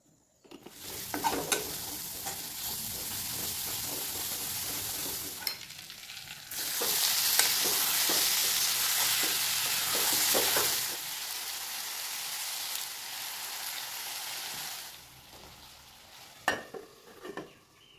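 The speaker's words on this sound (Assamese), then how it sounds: "মেৱা উইথ চিকেন বনাই আছোঁ" Chicken with mewa (giant granadilla, Passiflora quadrangularis) fries in a pan while being stirred, a loud steady sizzle with repeated scraping and clinking of the spoon on metal, intensifying midway and easing near the end, no talk.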